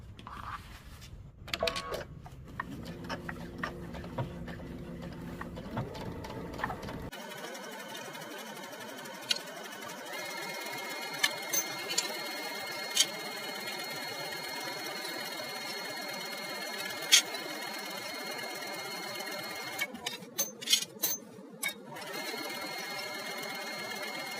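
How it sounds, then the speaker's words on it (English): A sewing machine stitches all the way around the pinned pieces of a top with ties. The stitching runs in short, close bursts at first, then gives way to a steadier mechanical whir. "we'll go ahead and take it to the machine and stitch it all the way around"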